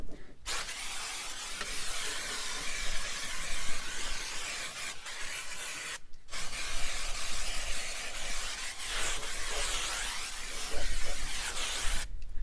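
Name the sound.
spraying brake cleaner on Harley fork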